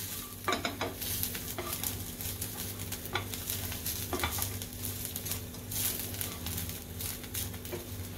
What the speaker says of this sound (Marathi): कांद्याबरोबरच खोबरं परतून घ्यायचं आहे.